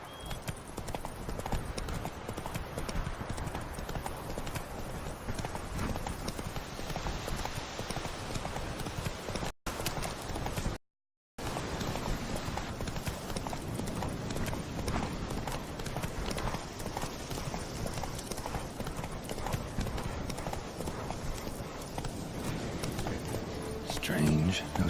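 Roach's hooves gallop steadily in The Witcher 3, a dense, continuous rhythmic drumming at close range with faint outdoor ambience. The sound drops out briefly near the middle, then resumes.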